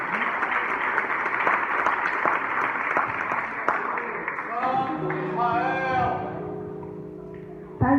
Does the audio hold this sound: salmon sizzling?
no